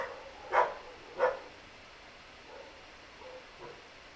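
Several poodles barking indoors at a moderate distance, two sharp barks in quick succession followed by a few fainter, scattered yips, with quiet room tone in between and no talking.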